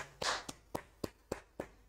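Six sharp, evenly spaced hand claps ring out faintly in a class setting, a steady solo rhythm of quick smacks with no voices over them.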